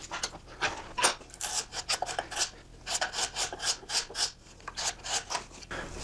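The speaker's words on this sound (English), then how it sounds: "I just use a sharpened putty knife to scrape those little flares or flanges of wood off there" A sharpened putty knife scrapes small wood flares off the shoulder of a live-edge log box lid in quick, rhythmic rasping strokes, close and fairly loud, with brief pauses between bursts.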